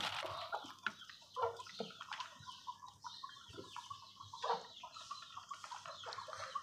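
Aseel chickens and a rooster at a breeder's setup cluck and call in short, irregular bursts, fairly close but quiet overall, with scattered rustling between the calls and no voices.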